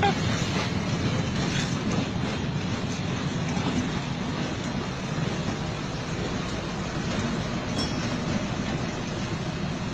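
A train rumbles past continuously with a low, steady roar and faint rhythmic rattling, while voices talk faintly underneath.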